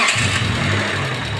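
A Mitsubishi Galant MPI car engine with its hood off turns over and runs, giving a loud, steady, close-up mechanical roar with no one talking.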